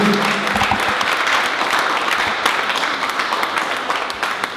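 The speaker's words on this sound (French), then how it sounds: "Je vous demande de les applaudir." Sustained audience applause at an employment forum event, dense broadband clapping from a large crowd filling the room steadily for several seconds before easing slightly at the end.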